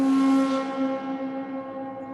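Custom welded metal string instrument of the kind used in horror film scores, ringing with a sustained metallic drone and bright overtones that decay gradually over two seconds, heard alone.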